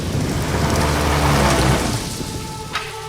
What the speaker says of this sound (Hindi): चलो चलो, बारिश आ रही है।